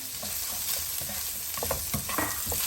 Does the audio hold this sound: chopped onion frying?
yes